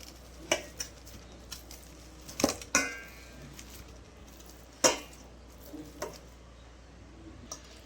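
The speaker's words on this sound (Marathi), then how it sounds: "आता आपल्याला हे पूर्ण पोटॅटो मॅश करून घ्यायचं आहे पोटॅटो मॅशरनी" Boiled potatoes being mashed with a potato masher for vada pav filling, soft squishy presses and occasional metal knocks against the pot, sparse and irregular, fairly quiet and close.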